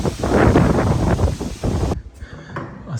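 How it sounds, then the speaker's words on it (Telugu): Strong wind at the 15th-century Chitradurga hilltop fort, loud gusty buffeting that rumbles and roars against the microphone for two seconds, then suddenly drops to a quieter low flutter. "గాలి అయితే సూపర్గా ఉంది యాక్చువల్గా"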